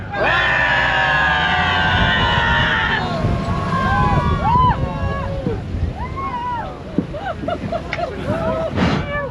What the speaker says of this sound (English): 2 arms up, big deep breath on the count of 3. I want to hear you scream.